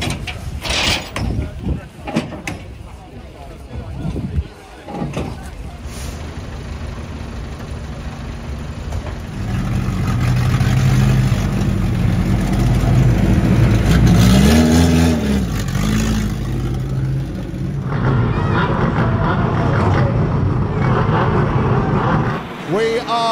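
Racing cars driving through the Aldershot turn in a BWS race, engines rising to a loud, sustained roar as the pack passes close, with a commentator talking over it.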